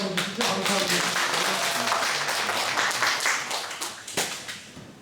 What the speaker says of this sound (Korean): 우리 축하의 격려의 박수 한번 주시죠.